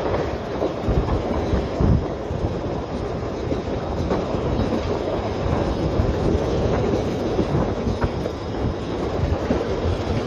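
The Rasender Roland narrow-gauge train on Rügen running between Binz and Göhren, heard from on board as a steady rumbling roll with rhythmic clatter of wheels over rail joints and faint squeals, with no talk.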